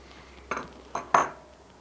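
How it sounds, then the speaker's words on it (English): An adjustable wrench gives a final turn on the hardware of a Strongarm pistol brace, producing three short metallic clinks and clanks, close and fairly crisp, with quiet gaps between them. "Then use your adjustable wrench. And go ahead and give it a little extra turn."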